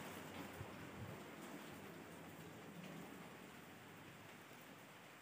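Soft, steady rainfall around a home makes a continuous hiss of drops on surfaces, fairly quiet and unbroken for about five seconds, with no talk.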